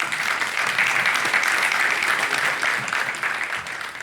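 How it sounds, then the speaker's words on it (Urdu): Sustained applause from an audience at an evening variety show in Barcelona, dense and steady clapping filling the room throughout at an even level. "آپ سب کی بھرپور تالیوں میں"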